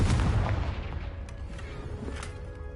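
A Confringo blasting spell going off in Hogwarts Legacy, a deep booming blast at the start that rolls off into a fading low rumble and scattered debris-like crackles.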